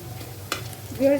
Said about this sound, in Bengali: একটা কড়াইয়ে তেল পেঁয়াজ আর তেজপাতা ভেজে নিচ্ছি